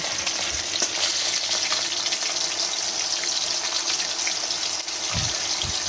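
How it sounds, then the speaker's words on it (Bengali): Continuous crackling sizzle of fish pieces frying in hot oil, with a few soft low knocks near the end; no one speaks. "একটা পিঠ ভাজা হয়ে যাওয়ার পর আমি মাছগুলোকে উল্টে নিলাম"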